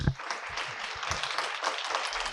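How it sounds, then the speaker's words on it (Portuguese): An audience at an evening literary talk claps to welcome a guest onto the stage, a brisk, even round of applause filling the room. "O público recebe a convidada com uma salva de palmas."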